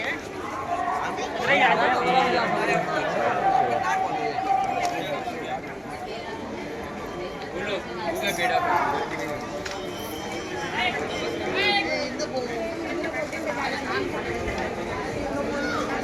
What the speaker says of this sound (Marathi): वा, एवढी गर्दी आहे इथे.